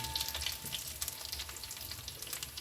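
Curry leaves fry in hot oil, giving a faint, steady sizzle with crackling pops throughout, heard alone without talk.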